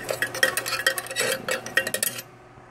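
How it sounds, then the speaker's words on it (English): Popped quinoa and rice are being stirred together in a container for a rice cake machine, giving a rapid dry rattling scrape of grains and utensil for about two seconds before it stops. "We'll try to mix a little bit, mix it with the rice"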